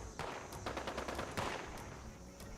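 Rapid overlapping gunfire from several players in the video game Fallout 76 during a black powder weapons event, a dense steady stream of shots and bursts.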